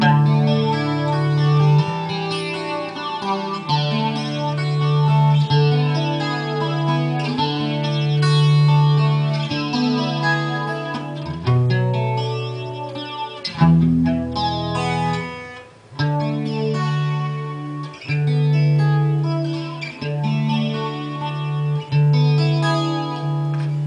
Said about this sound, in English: I was playing around with the distortion on it.